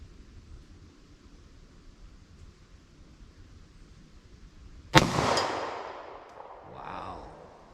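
A single sharp gunshot cracks, then a bullet rings off a steel plate after a stretch of quiet outdoor ambience, leaving a bright metallic ring that decays over a couple of seconds.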